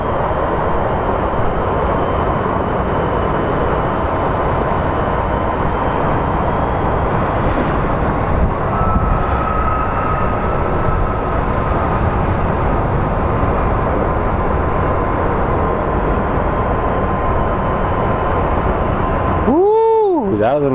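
An airliner lands at Phoenix Sky Harbor International Airport, producing a loud, steady broadband roar of engine and rushing air that lasts throughout, with a short sweeping whine near the end.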